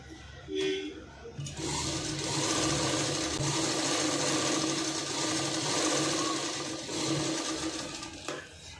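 Sewing machine runs steadily and close for nearly the whole stretch, stitching front dots on a boutique-style garment, a continuous motor whir with brief stops and restarts near the start and end.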